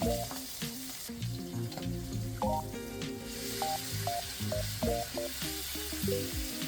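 Dried galunggong fish frying in hot oil in a pan, with a steady close crackling sizzle throughout, partly masked by background music.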